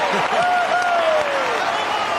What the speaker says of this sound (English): The Melbourne crowd happy with that one, Clinton.